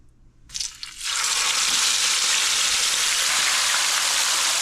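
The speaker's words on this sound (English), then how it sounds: "So we're going to allow the fish to fry." Fish drops into hot preheated oil and fries in a sudden loud, close sizzle that settles into a steady crackling hiss, with brief handling sounds just before it.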